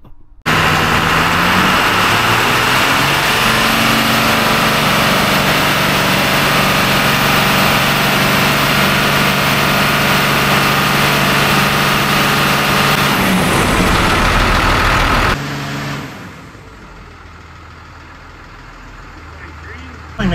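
A Cummins diesel truck engine on a dyno: a loud, steady, droning roar that holds for about fifteen seconds and then drops away to a quieter idle.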